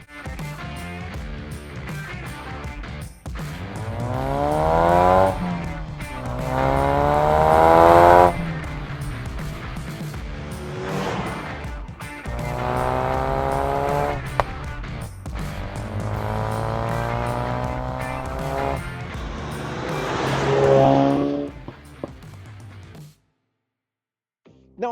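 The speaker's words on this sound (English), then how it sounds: "I bought a new car, the 2018 Ford Focus RS, and today we're going to review it." A 2018 Ford Focus RS Limited Edition hatchback accelerating hard through several gears, engine note climbing repeatedly with shifts in between, loud and steady from inside or near the car before cutting out at the end.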